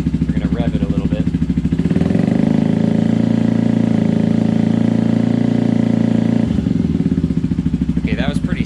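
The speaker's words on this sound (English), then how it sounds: "We're gonna rev it a little bit." A motorcycle fitted with a Pipe Werx exhaust idles with a throbbing beat, then revs hard into a loud, sustained roar for several seconds before settling back to idle, close to the microphone.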